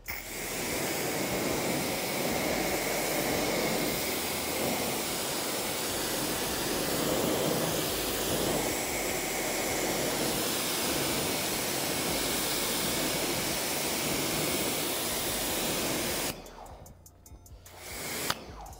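A continuous, steady hiss of rinse water sprays over a car's lower panels for most of the stretch, then cuts off near the end.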